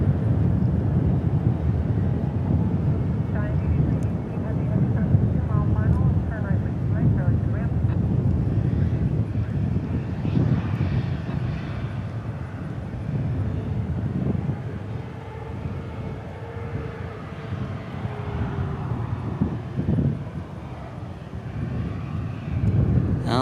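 Boeing 747 at DFW Airport, a deep continuous jet engine rumble from a distance, steady with slow swells, under intermittent talk.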